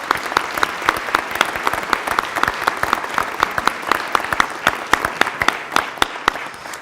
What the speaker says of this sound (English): Can I get a huge round of applause for that?